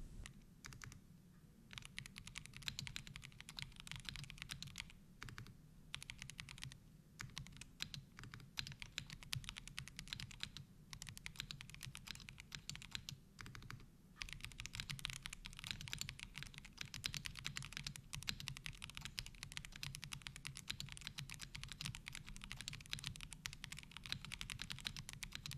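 Continuous typing on a small, compact retro-style mechanical keyboard, a steady quiet patter of close key clacks with brief pauses between bursts, heard alone.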